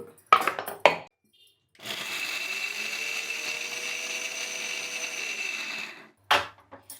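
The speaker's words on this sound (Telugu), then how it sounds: "అంతా రెడీమేడ్‌లో మిక్సీ తిప్పేద్దాం" A kitchen mixer grinder whirs steadily for about four seconds while grinding coconut, with a few sharp clunks before it starts and after it stops.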